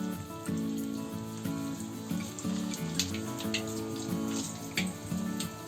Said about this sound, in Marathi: आपण जेव्हा स्नॅक्स टाकतो ना तेलामध्ये तर लगेच झाडा नाही घालायचा.